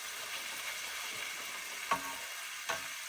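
Onions and hamburger meat frying in a pan, a quiet, even sizzle throughout with two brief scraping stirs.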